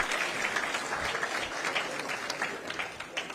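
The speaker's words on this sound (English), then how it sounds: "A hand of applause." Steady applause from a crowd at a political address, dense clapping that holds at an even level throughout without pauses.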